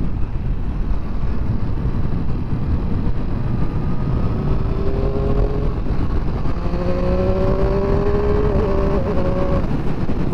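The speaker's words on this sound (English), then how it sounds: "Love the sound of the triple engine." Triumph Street Triple RS motorcycle with a triple-cylinder engine, heard on the move with a loud, continuous engine drone and wind rush, its pitch rising through gears in the second half.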